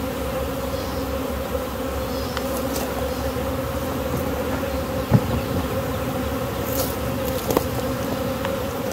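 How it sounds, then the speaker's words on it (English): Honey bees fanning at the entrance of a swarm-catch hive box make a steady, close droning hum throughout, with a few brief louder buzzes as individual bees pass near. "We got plenty of bees fanning on the entrance."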